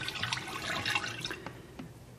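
Liquid pours in a thin, steady stream into an Italian ice machine, a soft continuous trickle and splash with a few distinct drips toward the end, close and fairly quiet.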